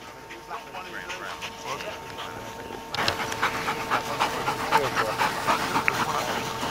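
A gun dog on a partridge shoot pants in quick, steady, rhythmic breaths close by. The panting grows louder and heavier partway through, with faint voices in the background.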